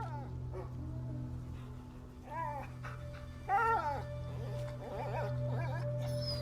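Short yips and whimpering cries from a dog in a video game intro, a few rising and falling whines spaced apart over a steady low hum and background ambience.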